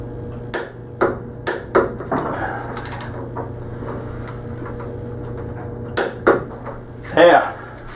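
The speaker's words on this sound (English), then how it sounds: "So now we got to tighten down that nut, the steering stem head nut." Metal tools clank and tap in separate sharp knocks while the steering stem head nut on a motorcycle is tightened after a crash, with brief ratcheting and low handling noise between strikes.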